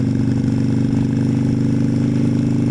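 A Harley-Davidson motorcycle engine runs steadily close by, a loud, even, throbbing idle with a low pulsing rumble and no voices.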